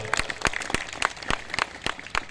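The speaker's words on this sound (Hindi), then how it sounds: "बाबा जी के लिए एक बार जोरदार ताली बजाओ।" An audience claps for Baba ji, a Mahanubhav sect ascetic, at a sermon gathering in Indore. About eight sparse, evenly spaced claps ring out over roughly two seconds, moderately near.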